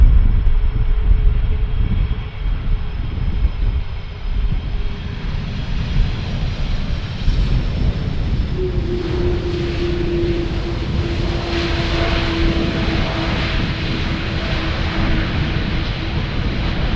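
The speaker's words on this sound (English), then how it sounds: "This flight coming in from Salt Lake City" An airliner arrives on runway 18R at Amsterdam Schiphol, its engines a steady, loud roar with low rumble throughout, a rising whine joining as it passes closer.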